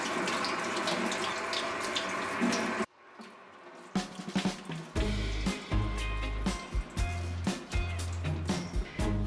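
Tap water running into a sink while fresh blueberries are washed, a steady hissing stream that cuts off, then splashing, rinsing and the clatter of berries being handled close by.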